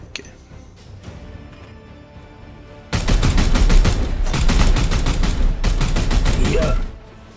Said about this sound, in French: On tire de suppression.